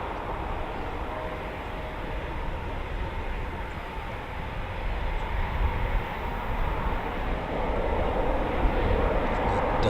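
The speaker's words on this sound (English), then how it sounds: "This beautiful sound of typhoons coming up." A Eurofighter Typhoon FGR4 jet taxiing at RAF Coningsby during evening night flying: a loud, steady broadband engine roar with a faint high whine, swelling slightly toward the end.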